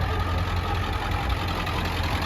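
A bone-stock truck engine with low miles and stock exhaust, intake and fuel supply idles close by with a steady, even low rumble and no revving.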